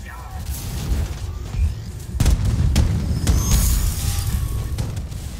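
Heavy rumbling action in Wolfenstein II: The New Colossus, with several sharp booming explosions of drones bursting in quick succession over a constant low roar.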